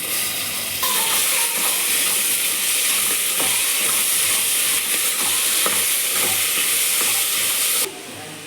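Vegetables go into a hot pan for veg biryani, setting off a loud, steady sizzle and hiss of frying with occasional stirring clatter. The sizzle holds evenly for several seconds, then drops sharply near the end.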